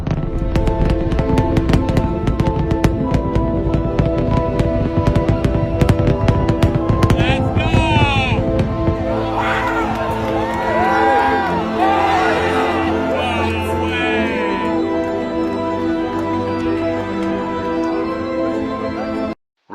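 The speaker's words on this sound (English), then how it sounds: "Rocket launching from Australia, according to Globe Tards." A rocket launch in Australia rumbles and crackles loudly and steadily throughout, while a crowd cheers and whoops over the roar in the second half.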